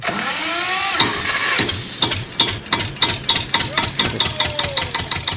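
A generator engine running, heard as a loud, steady series of regular chugging knocks that carry on through the whole stretch.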